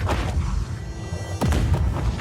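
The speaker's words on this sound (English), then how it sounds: "Mira calls them over so they can watch the explosion of another tower" A tower explodes in the video game Just Cause 4 with a dense, rumbling blast, then a sharp burst and renewed roar about halfway through, loud and continuous with no speech.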